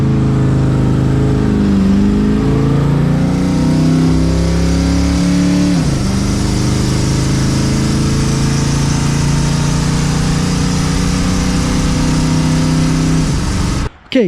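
A Ford Mustang engine is held on a 2-step rev limiter, loud and close: the revs dip and climb twice early on, then hold at a raw, steady high drone before cutting off abruptly.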